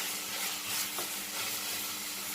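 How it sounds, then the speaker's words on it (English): Tomatoes and carrots fry in a pan for a Cameroon fish roll filling, giving a steady, close sizzle with a soft stir near the middle and no talking. "you can now add in your carrots and any other vegetable of your choice, and fry again for another 2 minutes"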